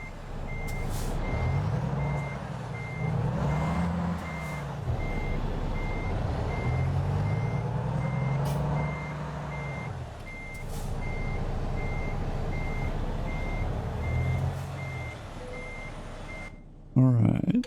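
Steady, evenly spaced reversing beeps from a truck backing up in American Truck Simulator, over a droning diesel engine that rises and falls, ending with a loud thump.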